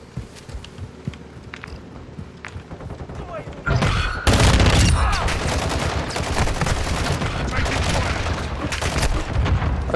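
Military video game battle with dense gunfire: scattered shots and bursts early, then a loud explosion-like boom and sustained heavy automatic fire and fusillades, with footsteps and occasional voices underneath.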